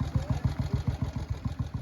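Velocette Venom 500cc single-cylinder motorcycle engine running with a steady, even low thump, close and loud, alone with no talk.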